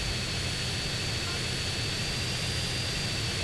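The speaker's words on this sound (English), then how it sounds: "But how fast the plane goes." A plane's engine drones during a GTA San Andreas air race in Las Venturas, a steady, loud, unbroken whine and roar held throughout.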